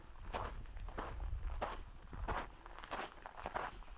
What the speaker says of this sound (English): there's not a single sound out here except for my footsteps and the occasional deer flies buzzing around me.